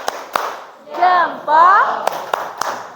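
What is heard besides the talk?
group clapping hands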